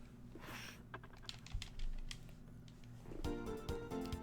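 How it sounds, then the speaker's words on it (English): A cat sitting on a computer keyboard presses the keys, giving scattered soft clicks and short clattering runs over a steady game music background, faint and close. "my cat's sitting on the fucking keyboard"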